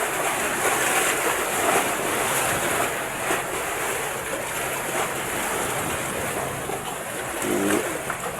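Rough sea surf churning as a storm approaches the coast, heard from a fishing boat: a continuous loud roar of waves with heavy wind buffeting the microphone, and a brief voice near the end.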